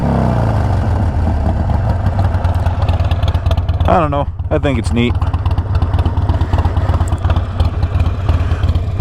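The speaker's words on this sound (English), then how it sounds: "it just has that classic Harley thump thump thump to it" A Harley-Davidson Sportster motorcycle idles loudly up close with a steady, thumping rumble that never lets up, while someone talks briefly over it.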